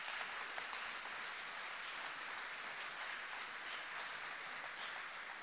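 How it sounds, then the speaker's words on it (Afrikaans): A church congregation at a Sunday morning thanksgiving service claps for the production and camera team, a steady, even hiss of many hands applauding at moderate distance without pause. "Kan ons vir hulle 'n lekker hande klap gee?"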